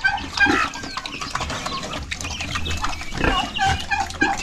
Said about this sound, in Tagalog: Yan yung mga manok natin, oh.